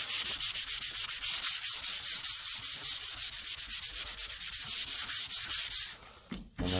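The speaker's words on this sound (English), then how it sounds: "put a little bit of primer and then sand that before you paint it" Steady, continuous rubbing and sanding on the primed metal body of a 1978 Dodge Aspen R/T under restoration, close and loud, with a brief pause near the end.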